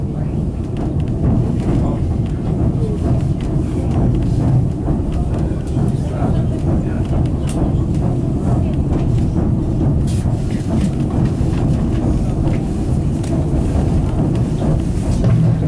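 A 1950s General Electric diesel train rolls along with a steady, loud rumble and faint rhythmic clatter as it passes two sister trains, with wind buffeting the microphone throughout and voices occasionally heard beneath.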